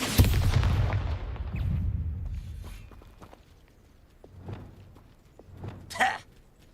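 An Expulso blasting spell explosion in a video game, opening with a loud boom that fades into a long rumbling tail, followed by quieter thuds and a sharp burst near the end.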